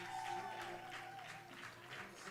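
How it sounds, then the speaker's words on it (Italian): Crowd applause ringing out at a women's Serie C football match between Catania and Palermo at the Via Grande ground, a steady, moderately distant wash of clapping with some murmuring voices under a faint tonal hum. "qui sentite di sottofondo l'applauso sincero del Russo di Via Grande"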